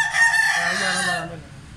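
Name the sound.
rooster crowing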